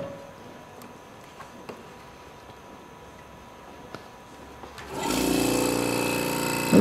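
A small vacuum pump switches on after a quiet stretch with a few faint clicks, then runs with a steady, fairly loud mechanical hum and whir right to the end.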